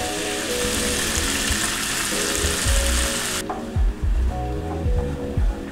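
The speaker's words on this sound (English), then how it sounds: "we're cooking this in one pan" Vegetables, including peppers, sizzle and fry in a single pan on the heat, a steady loud hiss that drops away partway through, leaving lower stirring clatter and scraping.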